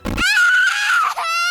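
A high, sustained wailing scream rises and holds with crying inflections in an animated episode, loud and close, preceded by a brief rough noise burst and ending in a shorter quavering cry.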